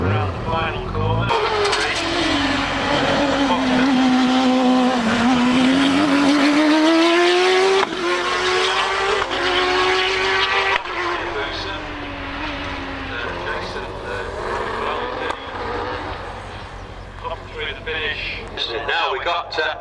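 Gary Hill's Space Radar S2000M hillclimb car sweeps around the final corner at Harewood, its engine note loud and close, rising and falling with gear changes before fading, with commentary over the top.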